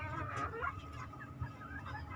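Several hens clucking in a breeding coop, soft scattered clucks at moderate distance over a low farmyard murmur, with no talk.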